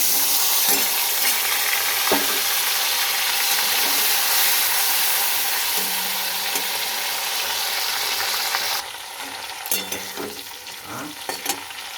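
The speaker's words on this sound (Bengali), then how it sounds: "এই তেলে এবার আমি আলুগুলোও ভেজে নেব।" Potatoes frying in oil in a pan: a loud, continuous close sizzle that drops to a softer hiss near the end, broken by a few stirring clatters, with no voices.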